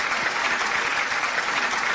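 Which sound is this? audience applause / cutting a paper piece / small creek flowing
audience applause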